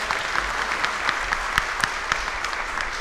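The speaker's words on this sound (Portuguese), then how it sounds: "Salva de palmas aí para as mulheres." A plenary hall audience gives a steady round of applause for the women on International Women's Day, dense hand claps sustained evenly throughout at moderate loudness, with no voices over it.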